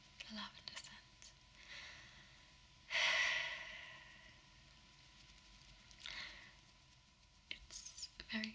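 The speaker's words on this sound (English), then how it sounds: "I'm just going to take a few moments to calm down and kind of breathe in the lavender scent." Slow, quiet breaths taken to calm down in a hushed room, with one long, clear inhale-exhale near the middle, softer breaths before and after, and faint whispery sounds around them.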